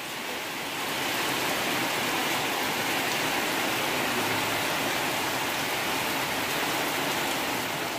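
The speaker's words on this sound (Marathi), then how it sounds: "तर पावसान जोरदार हजेरी लावला ना." Heavy monsoon rain during the Ganesh festival in a Konkan village, pouring as a steady, dense roar that fills the whole clip with no voices.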